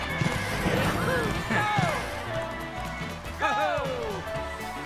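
A horse in the Mario & Sonic Rio 2016 video game whinnies several times in rising, falling neighs over galloping clip-clop hoofbeats, with a person talking throughout.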